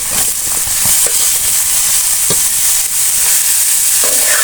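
Boiled banana flower stir-fried with prawns in a pan: a steady, loud sizzle with scraping stirring strokes every second or so, close up and without talk.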